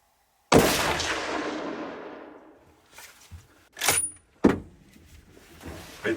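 A straight-pull hunting rifle fires one loud, sharp shot at deer. The report rings out and fades over about two seconds, and a few quieter clacks and thumps follow, likely the bolt being cycled.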